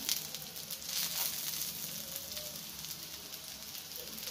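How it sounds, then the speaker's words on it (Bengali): Prawn head fritters shallow-fry in a little oil, giving off a soft, continuous sizzle and crackle that stays steady and fairly quiet throughout, with no voices. "তো বড়াটা তো এমনি বসিয়ে ভাজতে হবে, একটু তেলটা আমি দিলাম"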